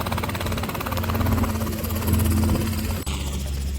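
A two-seater helicopter running close by, its steady loud engine whine and rotor drone holding throughout, with a sudden shift in tone near the end.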